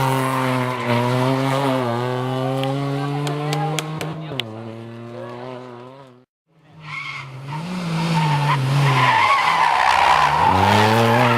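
Rally car at full throttle on a closed stage of the 28th Rally Empordà, engine note climbing through gears with tire skidding, fading briefly as it passes, then roaring again close by; spectators' voices faintly underneath.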